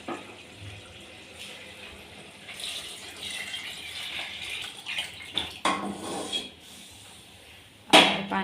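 Lukewarm water is poured into a pot of chicken biryani, a running liquid rush followed by clattering of utensils and a sharp metallic knock near the end, no voices.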